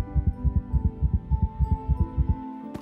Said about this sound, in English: he suddenly felt his heart beat faster in his chest